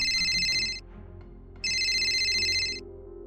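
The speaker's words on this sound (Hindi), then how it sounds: "तभी उसका फोन बजने लगा" A telephone rings in two loud electronic bursts separated by a short pause, with a low hum underneath.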